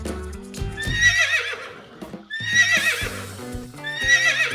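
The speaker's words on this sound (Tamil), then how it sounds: "இது குதிரை." A horse neighs in three loud, quavering whinnies, with hoof clip-clop and background music beneath.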